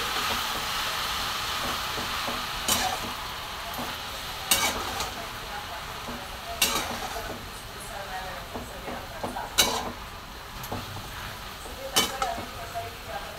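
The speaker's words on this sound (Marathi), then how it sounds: "बघा सगळी भाजी असे मिक्स करून घेतली डाळीमध्ये" Fenugreek leaves being mixed with moong dal in a pan, heard as periodic scraping strokes of a spoon against metal every couple of seconds over a steady soft sizzle.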